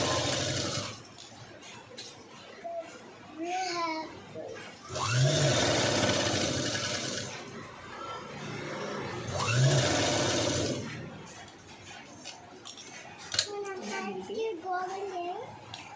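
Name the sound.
sewing machine stitching cut work design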